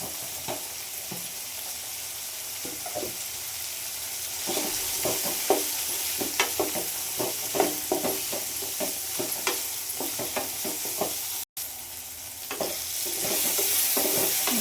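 Chopped beans and carrots sizzle steadily in a hot pan while a utensil stirs and scrapes in repeated bursts, close up and without talking.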